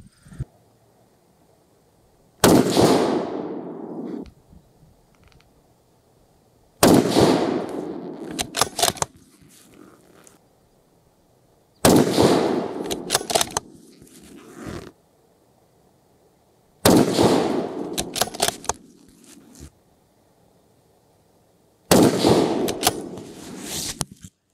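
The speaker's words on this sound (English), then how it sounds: "So let's go shoot a few rounds." Five loud rifle shots from a 6.5 Creedmoor Bronco Hunter fired outdoors, spaced about five seconds apart, each a sharp crack with a rolling echo and quiet between.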